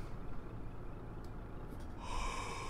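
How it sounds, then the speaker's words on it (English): A dog yawns with a soft, breathy snort and gasp inside a truck cab, faint and close over a low, steady engine rumble. "I hear you yawning"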